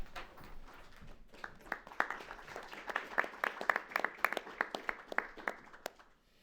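A conference audience at a peace prize panel applauds, a dense patter of many hands clapping that swells and then fades, heard alone without speech.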